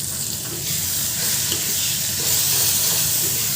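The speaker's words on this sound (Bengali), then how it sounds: "এটার মধ্যে সুন্দর করে মশলাটাকে একেবারে ভাজা ভাজা করে নেবেন।" Spices with chilli and turmeric powder fry in oil alongside tomatoes, a loud continuous close-up sizzle and hiss with soft stirring scrapes, steady throughout without any talk.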